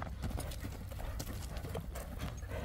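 Horse hooves clip-clopping steadily on the ground, close and continuous, with a rough outdoor background and no talking over it.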